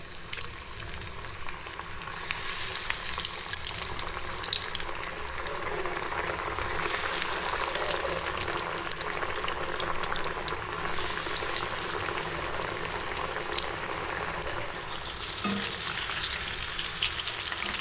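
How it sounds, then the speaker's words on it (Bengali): Fish fingers fry in hot oil over a low gas flame, giving a close, continuous bubbling sizzle that holds steady throughout without any talking. "এবারে গ্যাসের ফ্লেমটাকে লোতে রেখে আমি একটা একটা করে এই ফিশ ফিঙ্গারগুলো ভাজবো"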